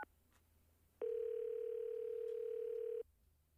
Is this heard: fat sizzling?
no